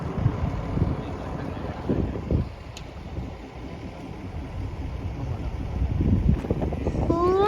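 Wind buffets a boat on open water with a gusty, rumbling roar against the microphone, under some brief voices and occasional knocks.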